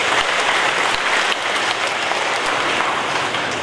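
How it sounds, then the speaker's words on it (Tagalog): A church congregation at a feast-day declaration of a Lourdes shrine gives the archbishop a dense, loud round of applause. The sustained, rain-like clapping holds steady throughout, with no talking over it. "Atong sugatan sa masimong palakpak atong mga arsobispo."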